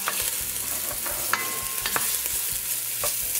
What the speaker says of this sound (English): Just give it a turn, make sure it's browning evenly on all sides.